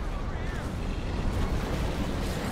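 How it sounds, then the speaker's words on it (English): Mortar rounds exploding in Company of Heroes 2, a dense, rumbling barrage of low booms blending into a continuous thundering roar, loud and close throughout the short burst. "Mortar rounds coming in"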